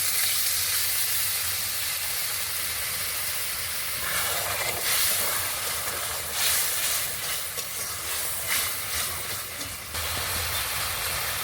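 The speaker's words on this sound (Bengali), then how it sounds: "এবার আমি একটু জল দিয়ে দেব।" Water is poured into a pan of sizzling lote fish curry, setting off a loud, steady hissing steam and sizzle that swells partway through and carries on for many seconds with no voices.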